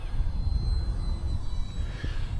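An E-flite Habu 50mm EDF RC jet flies overhead outdoors, its electric ducted fan giving a steady, fairly loud whine with a thin high tone that holds and then shifts slightly as it passes.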